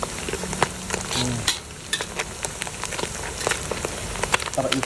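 Fish from a river frying in a pan, a steady crackling sizzle with bursts of spitting oil throughout, close and loud, with people talking over it.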